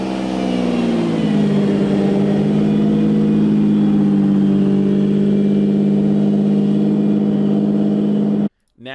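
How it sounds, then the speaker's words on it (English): A Lamborghini Diablo supercar's engine revs as the car pulls away, a loud, sustained low droning roar whose pitch climbs and then holds steady before cutting off abruptly. "I'm just going to let you guys listen to this Diablo leave."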